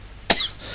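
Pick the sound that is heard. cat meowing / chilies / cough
cough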